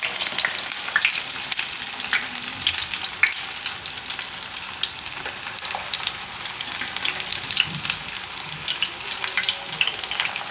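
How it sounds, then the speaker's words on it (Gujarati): Oats and spinach tikki sizzling in a pan as the second side fries, a dense steady crackle of hot oil with small pops throughout and no talking. "આ રીતની બે બાજુ શેકી લેવાની."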